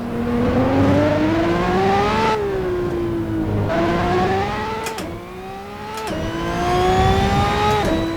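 A race car engine in the video game Assetto Corsa revs high and loud, pitch climbing and dropping through repeated gear changes, continuous throughout without any talking.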